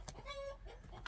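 Backyard chickens clucking close by in a short burst of warbling, harmonic calls over low background noise during morning chores.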